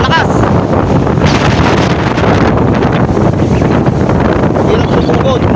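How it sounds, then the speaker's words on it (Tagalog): Strong wind at the sea during a typhoon buffets the microphone in a loud, constant rumbling roar, with a voice faintly audible beneath it. "pero yung hangin sobra, lakas."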